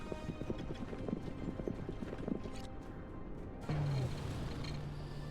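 Horses' hooves clip-clop in a rapid, continuous patter as mounted units move into position in the battle game The DioField Chronicle, with rumbling ambience, a whinny-like cry and a low sustained tone joining partway through.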